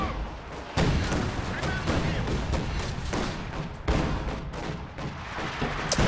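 An artillery barrage in Company of Heroes 2 striking a Soviet HQ, with repeated booming impacts and gunfire bursts at irregular intervals, loud and close, amid battlefield noise.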